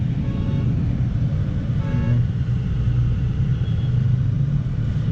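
A BMW twin-turbo V12 rumbles in a low, steady drone during a slow U-turn in Mumbai traffic, with a brief car horn toot nearby and constant road noise underneath.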